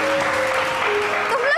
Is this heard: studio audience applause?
yes